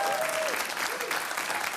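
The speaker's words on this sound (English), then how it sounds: "how about a round of applause for Manil Suri?" A studio audience bursts into dense, sustained applause for an award winner, a thick, even wash of many hands that fills the whole moment after a brief voice at the start.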